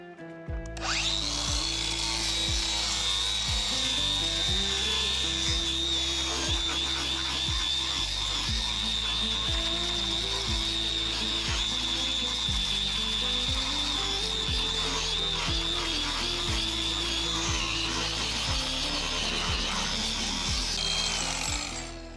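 An angle grinder fitted with a flapper disc sands old timber walls in a century-old Queensland house, a loud continuous high whine with rough grinding and scraping texture running throughout, no speech.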